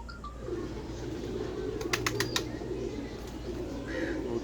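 Pigeons at a loft coo steadily in a low, continuous murmur, with a quick burst of sharp rattling clicks in the middle and a faint distant call near the end.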